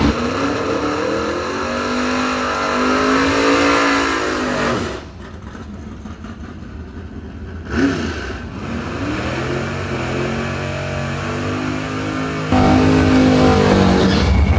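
Two-door drag cars and dragsters at the Working Man's $10 Grand event, engines roaring loudly as they launch and accelerate down the strip, fading briefly before another car's engine surges back in at full volume.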